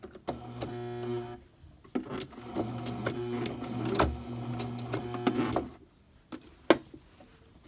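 A sewing machine stitches a fabric Christmas stocking in several runs of steady mechanical whirring, pausing between bursts, with a few brief clicks and handling sounds near the end.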